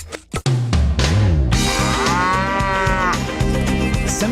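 Loud, drawn-out mooing from cattle, the semi-wild Maremmana breed of Tuscany, with a couple of brief calls at first followed by a long, sustained moo that carries on steadily to the end.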